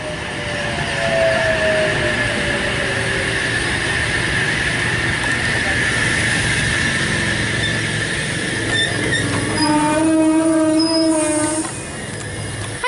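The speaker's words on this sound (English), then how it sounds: "We have Oscar Set H24 arriving on a platform number 1 on a Central Sydney Terminal service." An XPT passenger train rolls in to a station platform at Cowan, Sydney, a sustained rail rumble building with wheel squeals and horn-like tones near the end, loud and close with no talk.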